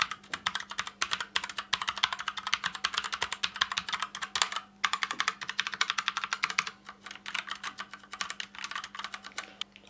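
Fast continuous typing on an SPC Gear GK630K Tournament RGB Pudding Edition mechanical keyboard with tactile Kailh Brown switches: dense, close clacking keystrokes in a busy stream, briefly pausing once, with no speech.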